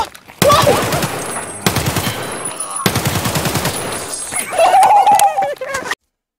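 An AK rifle fires in Escape from Tarkov in several loud, close automatic bursts separated by short gaps, with a clatter of other game sounds in between.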